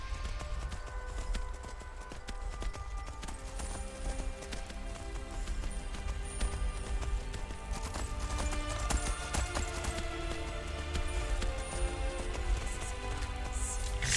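Horse hooves clip-clop steadily in the game Skyrim, a continuous rhythmic trotting at moderate level, layered with dense game music and ambient texture throughout.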